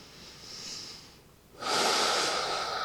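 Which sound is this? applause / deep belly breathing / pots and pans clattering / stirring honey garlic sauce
deep belly breathing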